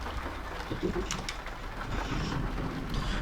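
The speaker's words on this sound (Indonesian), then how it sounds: "Wah, hujan deras teman-teman, sumpah kademen nih gitu kan." Heavy rain falls steadily in the Bus Simulator Indonesia driving game, a continuous dense wash with scattered brief rumbles, heard alone throughout.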